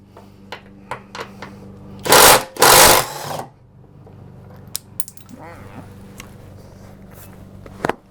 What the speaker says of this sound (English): I'm going to use my impact driver and see if we can get these things to loosen up a little bit